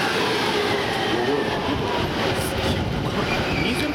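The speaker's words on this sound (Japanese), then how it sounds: "3番線には貨物線経由東京行きの到着です。" A Tokyo-bound Tokaido Line train pulls into a Japanese station platform, rerouted over the freight line. A loud, steady rolling rumble with wheel noise carries on without a break.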